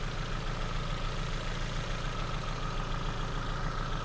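A Ford Focus engine idles with cylinder 2 not firing. It gives a steady, close, dense rumble with an even low throb and no voices.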